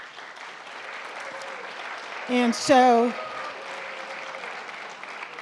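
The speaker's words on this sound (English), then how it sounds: "Give yourselves a round of applause." Graduates at a college convocation applaud, a broad wash of clapping filling the hall steadily throughout while someone speaks briefly over it.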